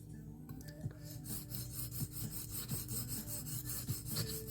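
A small knife blade being sharpened freehand on a Norton India stone, a series of regular scraping strokes, about a dozen close rasping passes in an even rhythm, fairly quiet.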